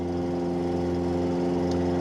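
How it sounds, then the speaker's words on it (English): A pickup truck engine idles with an exhaust leak, a loud, close, steady low rumble with a strong droning hum that holds constant with no talk. "I really need to fix that exhaust leak in this car"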